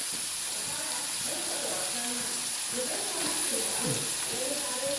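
Ginger-garlic paste, ginger and green chilli sauté in a pan for a prawn roast, giving a steady, soft sizzling hiss throughout. A person talks over the frying.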